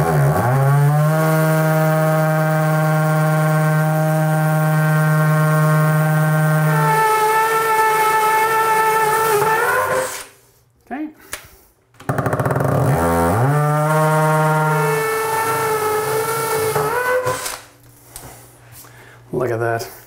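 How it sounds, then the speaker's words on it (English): A hammer drill grinds loudly through tile on low speed with a droning motor tone, running about ten seconds, pausing briefly, then starting up again for another long burst. "Now we're gonna put this on low speed and on hammer drill"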